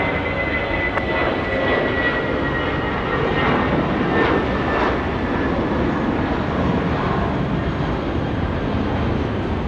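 A Jetstar Airbus A320 jet on runway 34 left at Sydney Airport gives a steady, loud engine roar heard from a distance, broad and continuous, with a faint whine running through it.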